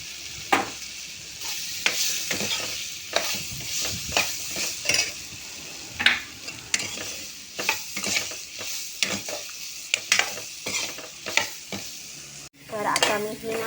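Elephant foot yam sabzi with turmeric and Malvani masala is stir-fried in a pan: a sizzle runs underneath while a spoon scrapes and stirs in repeated, uneven strokes, with no talking.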